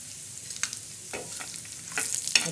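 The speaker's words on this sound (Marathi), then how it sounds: "त्याच्यामध्ये शेंगदाणे भाजायचे" Peanuts roast in a pan for a bitter gourd stuffing masala, stirred with a spoon that scrapes and rattles the nuts in short bursts over a low, continuous dry sizzle, close and moderately loud.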